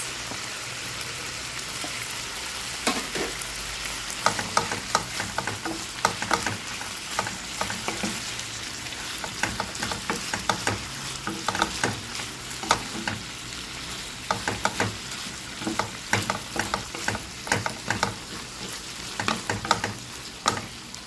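Onion, garlic, ginger and tomato stir-fried together with bay leaves in a pan for adobo, giving a steady sizzle broken by frequent scraping clacks of a spatula stirring, close and continuous, with no talking.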